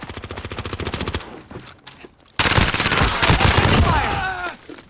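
Rapid automatic gunfire from Call of Duty Warzone on Rebirth Island, a fast run of loud close shots, a short lull, then a denser burst of heavy firing.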